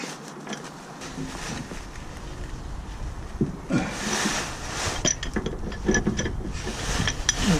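A ratchet tightens a leaf spring bolt on a Ford Transit MK7 van, giving a run of quick metallic clicks and clinks that grow louder toward the end, with no talking.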